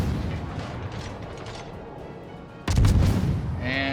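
Warship guns fire in a World of Warships naval battle: a single sharp, heavy boom near the end cuts through low rumbling mechanical background noise.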